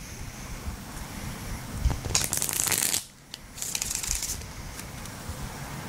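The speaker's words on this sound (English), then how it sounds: "so I shuffle pack first." Two bursts of riffling card shuffling, a brief pause between them, heard over steady wind-like background noise.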